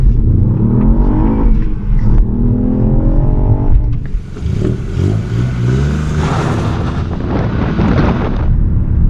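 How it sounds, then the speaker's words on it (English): A 2020 Ford Fiesta ST on launch control holds its engine bouncing against the rev limiter, then the clutch drops and a loud, rising roar of acceleration follows up close. "Put it in gear, it bounces off the top limiter, and then you just let the clutch go."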